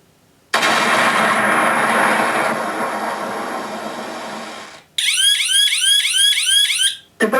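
Betty 5.0 airsoft simulation device sounding its bomb detonation alarm: a loud continuous blaring tone for about four seconds, then a rapid repeating electronic warble that cuts off abruptly, with no talking.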